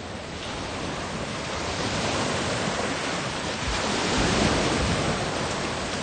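Ocean waves at Cockburn Sound on the Indian Ocean near Perth, surrounded by islands: a broad continuous wash of surf and wind, swelling gradually louder toward the end, with no talking.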